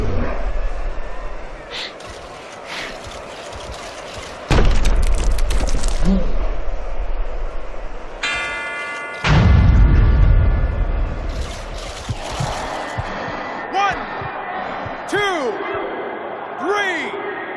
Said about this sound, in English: The bell to end that round.